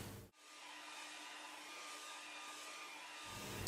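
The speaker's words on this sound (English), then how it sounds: "speed up the process with a hairdryer" A hairdryer switches on with a click and blows in a steady, loud whooshing roar, continuous until it cuts off near the end.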